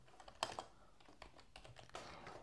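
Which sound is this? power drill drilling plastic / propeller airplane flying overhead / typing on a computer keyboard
typing on a computer keyboard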